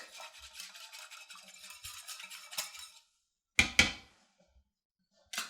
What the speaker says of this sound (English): So I'm just going to give this a good whisk.